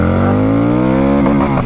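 A Harley-Davidson Street 750 motorcycle engine revs loud and close, its rumbling tone climbing steadily before wavering near the top of the rev.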